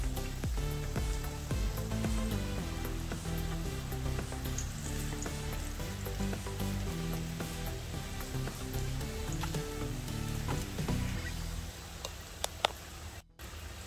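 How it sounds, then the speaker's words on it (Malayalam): Sughiyan, a Kerala sweet snack, frying in hot oil, giving a steady close sizzle and bubbling crackle throughout, with a few faint clinks of a utensil near the end. "എല്ലാ സൈഡും നന്നായിട്ട് മൂപ്പിച്ച് നമുക്ക് എടുക്കാം."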